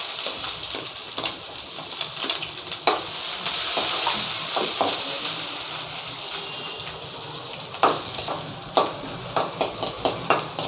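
Onions sizzle in a small amount of hot oil with fenugreek seeds, stirred with irregular scraping and knocks that grow sharper and more rhythmic toward the end, the frying hiss steady throughout and no talking.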